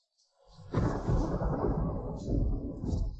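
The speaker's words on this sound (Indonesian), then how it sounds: "Beneran ada petir." A single long roll of thunder swells in after a brief quiet start and rumbles steadily for about two and a half seconds, deep and fairly close, with no voices over it.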